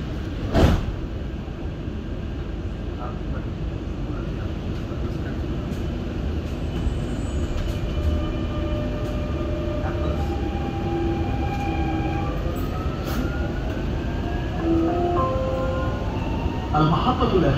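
Dubai Metro Green Line train rolling along with a steady low rumble and whine, rising tonal hums as it runs, a sharp knock near the start; a recorded announcement speaks over the ride.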